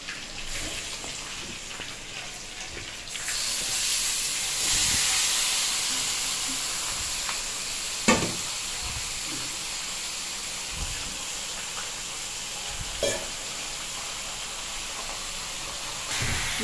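Marinated chicken leg pieces cooking in a pan give a steady hiss and sizzle throughout, with a few sharp clinks and taps of utensils, and no one talking.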